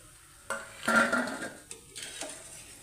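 Fried MTR gulab jamuns are lifted out of hot oil in a pan, giving a few close scraping and clinking strokes of a slotted spoon over a faint sizzle.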